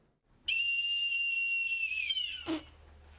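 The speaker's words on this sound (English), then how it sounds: "That was such a weak whistle." A single shrill whistle in a Peaky Blinders episode, one steady tone held for about a second and a half before tailing off, followed by a brief knock.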